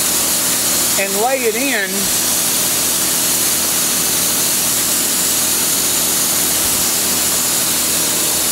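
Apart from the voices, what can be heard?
grinding out an iron valve seat in an intake port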